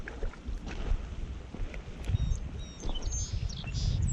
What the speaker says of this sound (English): I don't know if you guys hear those pretty things singing. Got a chickadee over my head.